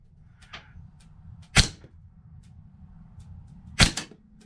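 An airsoft gun fires 6mm steel ball bearings in two sharp, loud snapping shots a couple of seconds apart, with lighter clicks between them against a low background rumble.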